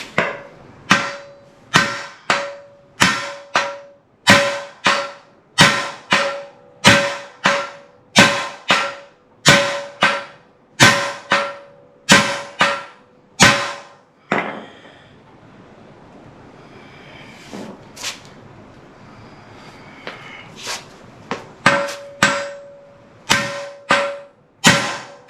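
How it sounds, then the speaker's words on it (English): Repeated heavy hammer blows ring out on a stuck metal part of an early Ford front straight axle in a steady rhythm, pausing midway for quieter rustling before another fast run of strikes. "Here comes the hammer."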